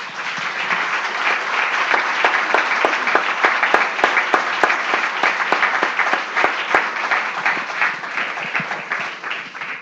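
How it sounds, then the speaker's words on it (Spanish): Sustained applause from a church congregation during a Spanish-language sermon, dense steady clapping filling the room for about ten seconds with no talk over it. "¿Por qué no le damos un aplauso al Señor, hermano?"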